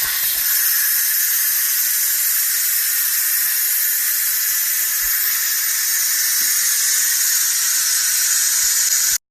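A pressure cooker that has just finished cooking beans vents steam in a loud, steady, close hiss that runs unbroken and stops abruptly at the end.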